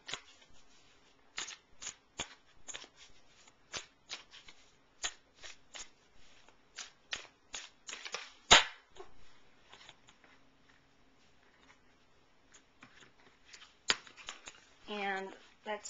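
Tarot cards are shuffled by hand for a Celtic cross reading, a quiet close series of soft riffles and taps at irregular intervals, with one sharper snap midway and a short riffle near the end.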